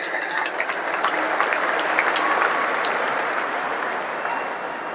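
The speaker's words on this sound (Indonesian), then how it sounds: "Tepuk tangan untuk semua yang memilih hadir di sini" An audience at a political speech breaks into sustained applause, dense clapping from a large crowd that keeps an even loudness throughout, tapering only slightly near the end.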